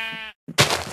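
Sheep in the Minecraft video game bleat twice in quick succession, short wavering baa calls, loud and close, with no talk over them.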